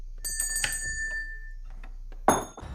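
A small bell rings in a quiet house at night, several light bright chimes ringing out over a low steady hum, ending in a louder metallic jingle.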